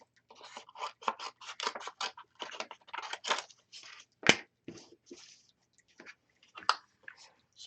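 Scissors snip through stamped paper in short, uneven bursts of close cutting, with small scratchy rustles between the cuts and one sharper snap partway through.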